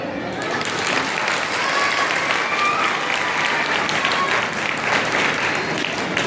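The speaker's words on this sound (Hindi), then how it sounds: "मैं अपने गुरु के लिए ताली का आह्वान करता हूँ," An audience at a public speech claps for a guru, sustained dense applause from many hands, steady and loud throughout, with some voices faintly underneath.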